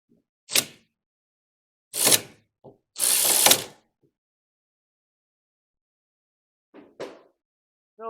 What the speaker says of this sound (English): this one we can get the ratchet on there